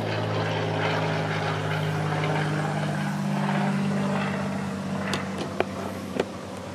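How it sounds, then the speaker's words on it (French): Distant traffic from cars and airplanes near a riverside grotto forms a steady low rumble and drone, with a few faint clicks and taps near the end. "on entend un petit peu du trafic. Des autos, des avions"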